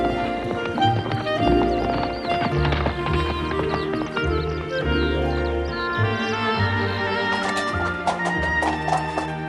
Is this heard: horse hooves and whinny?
yes